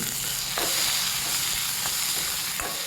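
Loud, steady sizzling of a ground paste frying in a hot pan for soybean curry, with soft scraping stirs breaking through now and then.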